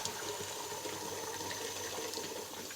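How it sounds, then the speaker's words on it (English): Hot water runs steadily from a tap into a large pot of curds and whey for a cream-enriched raw milk Butterkäse cheese, a continuous close, even gush with no pauses and no talking over it. "I'm gonna run some hot water into here,"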